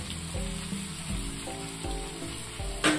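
Fish sizzling in a little oil in a pan after being flipped, a steady frying hiss with low rhythmic tonal hum pulses underneath and a brief louder scrape near the end.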